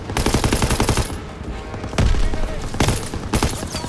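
Machine gun fire in Call of Duty: WWII hammers out in fast, sustained bursts, loud and close, with heavy shots punctuating the stream and faint battlefield voices underneath.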